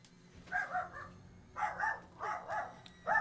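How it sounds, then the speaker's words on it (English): Neighbour's small yappy dog barking next door, a few muffled, moderately distant yaps in short bursts with quiet gaps between. "Apologies if you hear like the neighbour's yappy dog next door."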